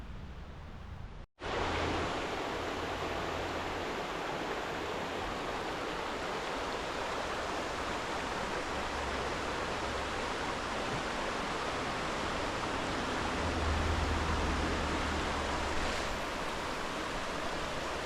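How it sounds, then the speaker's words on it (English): Deep Creek rushing past a campground and picnic areas in the Great Smoky Mountains, a steady broadband roar of flowing water heard up close, with one brief dropout near the start and no talking. "I'm standing right next to Deep Creek. It's running through the Deep Creek campground and some picnic areas."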